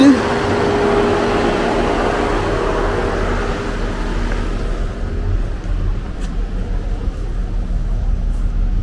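A 2013 Chevy Equinox engine idles steadily at close range, a constant low hum with broadband fan-like noise that thins out midway, continuing alone without talk.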